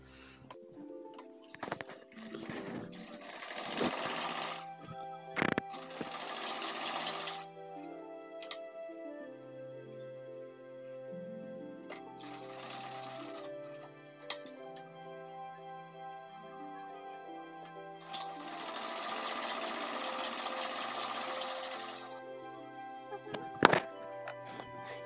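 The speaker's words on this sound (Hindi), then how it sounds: "तो देखिए किस तरह से सिलाई लगाते हैं।" Sewing machine stitching folded fabric for a ladies' suit in several short runs of fast whirring, separated by quieter stretches of ticking and handling clicks, close and fairly quiet, with no talk.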